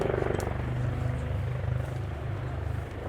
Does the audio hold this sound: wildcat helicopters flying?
yes